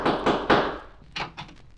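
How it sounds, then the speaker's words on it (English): Knocking on a palace door as a sound effect on a vintage children's story record: three sharp raps, then a short cluster of three quicker knocks, near and fairly loud, with no voice over them. "someone knocked at the palace door"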